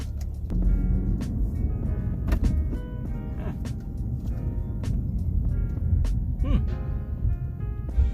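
A car moves off and rounds a corner with a low, steady engine rumble inside the cabin, broken by a few soft clicks and knocks.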